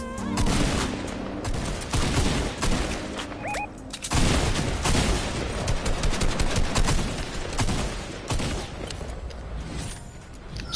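Heavy, rapid bursts of gunfire crack back and forth in a battle royale video game, loud and continuous with sharp individual shots and explosions scattered through the barrage.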